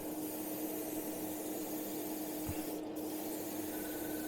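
A Gaahleri Mobius TG airbrush sprays paint in a steady, soft, continuous hiss of air, close and even throughout, with no talk over it.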